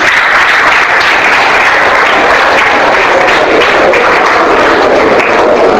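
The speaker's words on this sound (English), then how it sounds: "Give him a clap." Audience at a youth confidence-building session in Hyderabad claps steadily for about six seconds, a dense, loud, continuous wash of applause with no talk over it.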